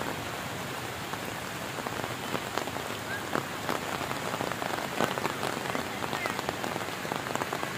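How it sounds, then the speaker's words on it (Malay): Rain pours steadily at a beach at Batu Layar, a dense, even hiss of drops striking surfaces with scattered sharper patters, continuous and fairly close, with no voices. "Suasana hujan di Batu Layar."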